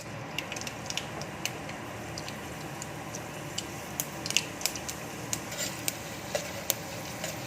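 Fenugreek, chana dal, urad dal and mustard seeds frying in hot oil, a steady soft sizzle dotted with sharp irregular pops and crackles as the seeds burst.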